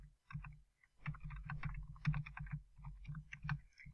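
Typing on a computer keyboard, a steady run of quick, close key clicks in uneven bursts over about four seconds, with no voice.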